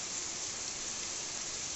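Heavy monsoon rain pours down steadily during the Sawan season, a dense, even hiss of falling water with no breaks and no voices.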